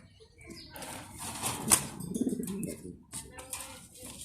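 Pigeons in a loft, Indian-coloured and black birds, flapping their wings in bursts of close rustling, with faint cooing and shuffling in between.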